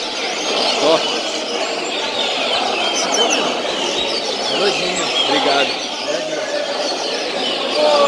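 A coleiro, the double-collared seedeater, chirps and twitters in fast, busy bursts close to the microphone over several seconds, its song carrying continuously with a faint background hum.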